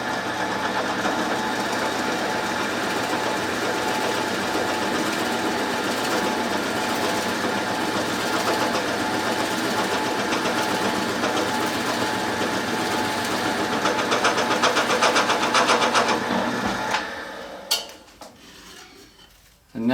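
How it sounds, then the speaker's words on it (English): A drill bit bores a one-inch hole during a desk lamp repair, with a continuous, loud grinding whir that holds steady, then stops abruptly near the end, leaving a few faint clicks. "And now that we have the 1 inch hole drilled, I'll carry on through with the 1/2 inch."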